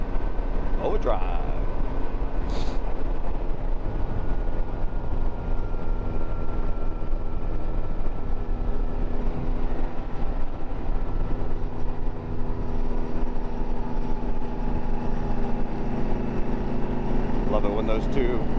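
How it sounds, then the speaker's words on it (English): Steady, loud drone of V4 motorcycle engines, a Yamaha Royal Star underneath and a Honda V4 riding ahead, heard on the road between Walhalla, SC and Dillsboro, NC, constant throughout with wind rush. "Love it when those two engines, we got a V4, we got a Honda V4 up front, we got a V4 below us here."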